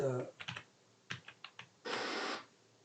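Computer keyboard arrow keys are tapped in a few quick separate clicks, followed by a longer burst of rustling or typing noise, close and clear with no talk.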